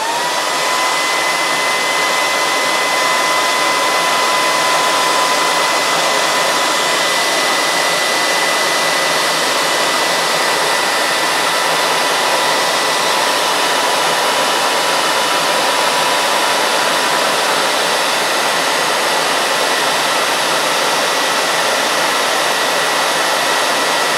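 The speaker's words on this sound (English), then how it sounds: "Actually, what I could do is use my heat gun." Heat gun blowing hot air steadily to dry the painted head of a WW2 soldier figure, a loud, constant broadband whoosh running unbroken throughout with no talking.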